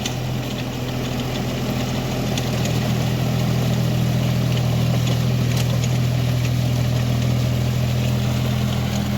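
A mini tractor fitted with a rotavator runs its engine steadily, a loud close low hum and rumble with a faint knocking texture, unbroken for the full length.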